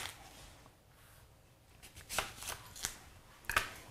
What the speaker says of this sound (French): couper l'oignon en 4